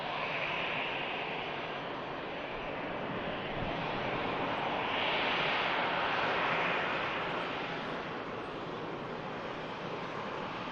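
At Manchester Airport an EasyJet airliner bound for Paris Charles de Gaulle rolls for takeoff, a continuous loud jet roar swelling slightly midway, wind noise on the microphone, no one speaking.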